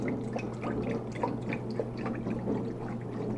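Chicken broth poured from a carton into a pot for homemade chicken noodle soup, a soft steady liquid trickle and splash running throughout at moderate level.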